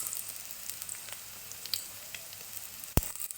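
Onion, ginger, green chilli and curry leaves sautéing in a pan for a ground-coconut curry, a faint, soft sizzle with light crackles and one sharp click near the end.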